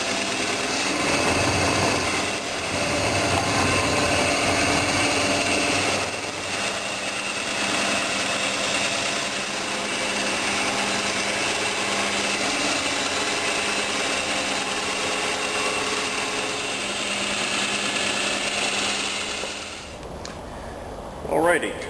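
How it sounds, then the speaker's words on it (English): A power saw runs steadily and loudly for about twenty seconds, making relief cuts while building an anvil stand, the motor droning continuously before cutting off near the end. "cutting some relief cuts so that as I come around the radius of this bin, the blade won't bind"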